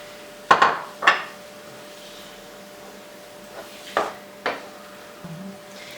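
A handful of sharp metallic knocks and clinks of a utensil in a pan as tomato goes in with minced meat and peppers. Two close knocks come early, then a quieter pair after a pause, over a faint steady hum.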